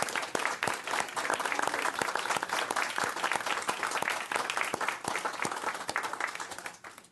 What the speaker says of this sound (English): allow us a round of applause in thanking them for their service